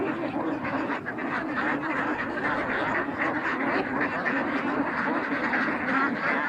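Dense flock of ducks on a small backyard farm, around 1,100 layer ducks, quacking continuously in a loud overlapping chorus at close range, with brief human voices faintly under the din.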